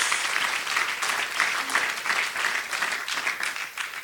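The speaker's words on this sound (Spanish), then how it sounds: "Démosle un aplauso al Señor ahora" A Spanish-speaking church congregation claps in praise during a sermon, giving a sustained, even wash of applause with quick individual claps standing out, holding steady until it eases slightly at the end.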